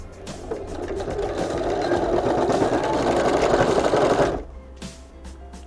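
A sewing machine stitches a fabric tablet case in a continuous, close, steady motor whir lasting about four seconds, then stops, leaving a quiet room.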